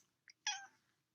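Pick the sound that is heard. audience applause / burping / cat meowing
cat meowing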